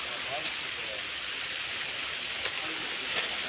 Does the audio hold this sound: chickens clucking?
no